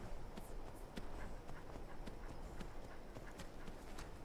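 Horse hooves clip-clop at a steady walking rhythm in the Skyrim video game, with even, close hoofbeats over faint background ambience.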